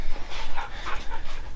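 Dogs pant rapidly and breathily close by during work on building a trailer, a continuous rough huffing with a few faint whines and no talking.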